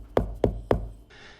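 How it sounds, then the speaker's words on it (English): Three soft, evenly spaced knocks on a window sound close by, each a short muffled thud, followed by a faint brief rustle. "They both held their breath and heard soft knocking on the window."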